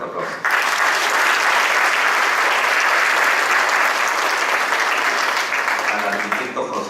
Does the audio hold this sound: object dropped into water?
no